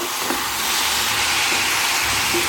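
Fenugreek leaves frying in a pan for a traditional Mysore methi curry, a steady broad hiss of sizzling oil with faint occasional soft knocks, close and continuous without any talk.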